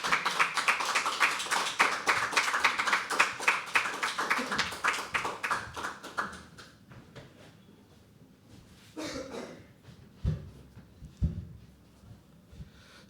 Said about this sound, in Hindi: जोरदार तालियों के बीच बुलाएंगे अगले परफॉर्मर को